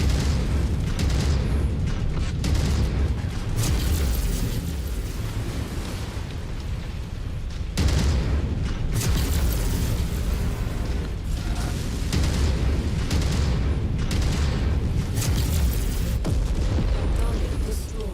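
Explosions rip through a target facility in the MechWarrior 5 video game, a dense, continuous run of booms and bursts rolling on for the whole stretch, loud and close, with a sharp fresh blast partway through.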